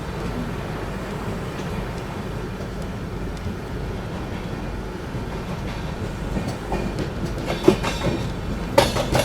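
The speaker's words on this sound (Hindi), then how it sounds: "चलिए निकल चुकी है ट्रेन अपनी जो है संगम नगरी प्रयागराज के प्रयागराज जंक्शन रेलवे स्टेशन से" The New Delhi–Howrah Rajdhani Express pulls out of Prayagraj Junction with a steady rumble of rolling wagons and rail clatter. Sharper clanks and knocks pick up toward the end, and no one speaks.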